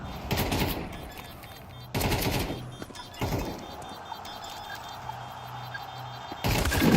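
Shotgun blasts ring out in a Counter-Strike 2 playoff match, loud sharp bursts at irregular intervals with quieter game ambience and clicks between them.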